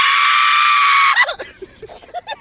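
Loud, sustained human scream from a contestant in a shouting contest, a piercing high-pitched cry held for about a second, then breaking off into shorter voiced sounds and murmurs of a crowd.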